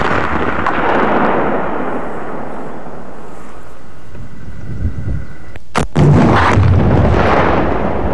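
An M72 rocket launcher fires with a sharp, loud blast, followed by a rumbling roar that carries on for a couple of seconds over constant outdoor wind noise.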